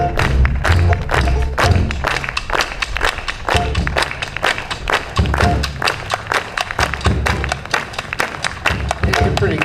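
Audience at the City of DuBois Music Fest clapping hands in a steady rhythmic beat along with a Dixieland band's song, loud and close, sharp regular claps over low band thumps throughout.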